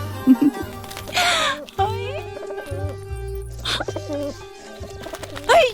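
Low, throaty pigeon coos repeat close by, mixed in with people talking nearby.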